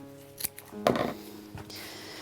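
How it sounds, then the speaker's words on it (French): Scissors cut a piece of ribbon in a craft workshop, one short close snip with a faint rustle of the ribbon around it. "Ensuite je reprends du ruban et donc je coupe un morceau."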